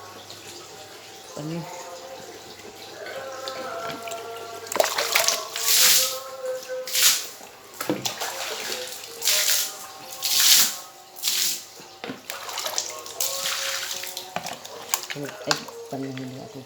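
Water splashing and pouring in repeated bursts as plants are watered, with a voice speaking over it and a faint steady hum in the background.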